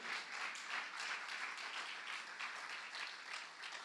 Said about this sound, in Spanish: dale fuertes palmas a Él